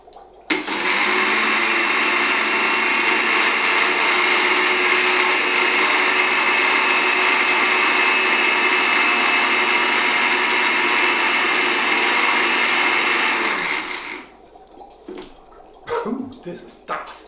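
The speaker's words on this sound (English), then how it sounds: "let's start the mix and let's blend the fireflies" A blender roars loud and steady for about thirteen seconds while blending fireflies, then winds down and cuts off, followed by a few faint knocks and clatters.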